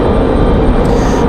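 An American Airlines jet departing Raleigh Durham airport on a windy day, heard as a loud, steady, broadband engine roar that fills the whole moment without a break.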